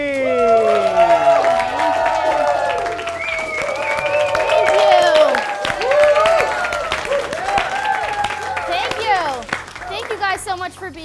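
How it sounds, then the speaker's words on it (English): A studio audience at a talk-show season finale applauds and cheers for host Amanda Breen, with whoops and excited voices over steady clapping. "please give a round of applause to Amanda"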